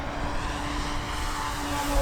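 A steady, loud propeller-driven Hangar 9 OV-10 Bronco 30cc model plane roars past at full power on a high-speed pass, its engine drone holding constant with no voices.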